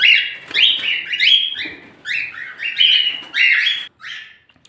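Parrots being given fruit-bearing branches chirp and squawk close by, a rapid string of bright, rising and falling calls that overlap one another with short pauses between bursts.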